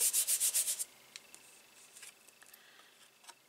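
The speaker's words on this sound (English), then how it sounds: "I'm just going to place it down carefully and rub" A paper piece being rubbed down onto a stamped greeting card: a quick run of rhythmic, bright rubbing strokes up front, then quieter scattered taps and light scuffs.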